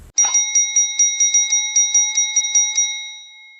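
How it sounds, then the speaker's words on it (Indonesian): Electric bell ringing continuously, a rapid metallic trill of repeated strikes on a single bright tone, close and loud, then fading out as it stops. "maka tentunya bel tersebut akan berbunyi secara terus-menerus"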